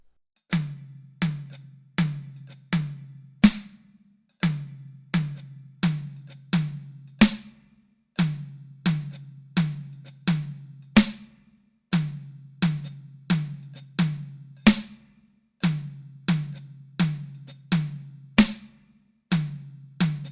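A drummer's left hand alone plays a repeating tom pattern, several low tom strokes followed by a sharp snare crack on beat 4, steady and close with no talking.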